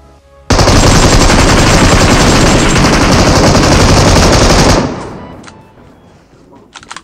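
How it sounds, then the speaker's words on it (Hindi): M249 machine gun in a battle royale video game firing a long nonstop burst, loud and dense for about four seconds, then cutting off and fading into quieter ambience with a few faint clicks. "M249 लेके बंदा नॉन स्टॉप फायर देते जा रहा है"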